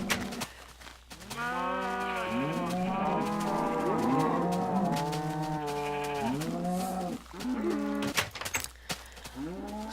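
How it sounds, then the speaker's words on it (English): Many cows mooing at once in Minecraft, overlapping long low calls that layer into a loud, continuous chorus over a steady low hum. "you're not going to be able to hear me over the mooing"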